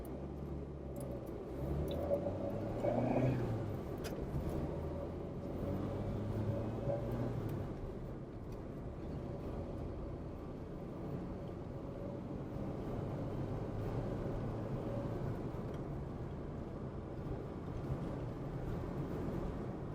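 Skoda Favorit 1.3 small four-cylinder car engine pulling steadily through the five-speed gearbox, a continuous low drone that rises and settles as it climbs through the gears, heard from inside the cabin.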